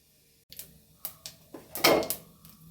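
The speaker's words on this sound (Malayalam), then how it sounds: "കടുകൊന്ന് പൊട്ടിട്ടോ" Mustard seeds crackle in hot oil in a pan: about half a dozen sharp, separate pops at irregular intervals after a quiet start, ending in a louder, denser burst of spattering near the end.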